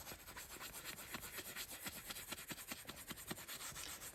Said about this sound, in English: And you're gonna just start gently brushing.